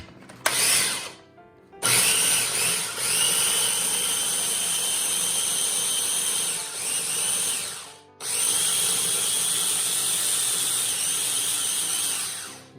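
A blender whirring as it mixes kale Caesar salad dressing: a short burst, then a long loud steady whine with brief dips, stopping once before starting again, heard alone without voices.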